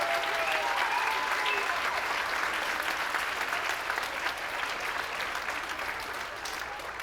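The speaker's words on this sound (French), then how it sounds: "Veuillez applaudir Logan Laflamme, Marianne Gagnon ainsi que Jacques Drolet en tant que jury." A school talent show audience applauds the jury, steady crowd clapping heard from a distance, fairly quiet and even, easing slightly toward the end.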